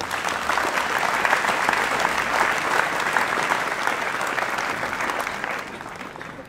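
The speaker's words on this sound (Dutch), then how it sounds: "Graag applaus voor al deze vrijwilligers." Audience applause for volunteers at a Hardenberg tattoo event in 2019, a broad, steady wash of many hands clapping that carries on evenly before fading slightly toward the end.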